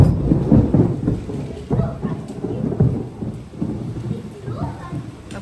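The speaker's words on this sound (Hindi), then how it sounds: "अभी बारिश कम हो गई लेकिन ये आवाज है ज्यादा, बिजली बहुत ज्यादा कड़क रही है" Deep rolling thunder rumbles continuously over steady rainfall, with low booming swells rising and falling throughout, fairly loud and close.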